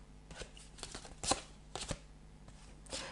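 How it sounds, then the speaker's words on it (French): Tarot cards being drawn and shuffled, a few soft, brief papery riffles and slides, quiet and close, with pauses between them. "Donc je vais tirer 2 dernières cartes."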